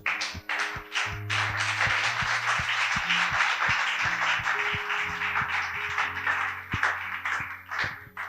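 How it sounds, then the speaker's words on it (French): A church congregation claps and cheers loudly in praise of God, a dense, steady wall of applause with sharp hand strikes, lasting throughout over sustained low instrumental tones. "Acclamons fortement notre Dieu"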